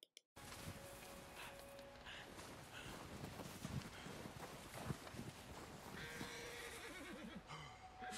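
An Arabian horse in Red Dead Redemption 2 whinnies and snorts close by. Hoof movement and other game ambience run steadily underneath, and a voice briefly talks.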